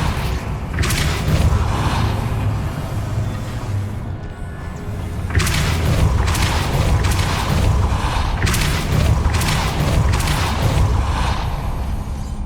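A Depulso spell cast in the video game Hogwarts Legacy, heard as repeated booming thumps and whooshing bursts against a steady rumbling game background, with several impacts spaced a few seconds apart.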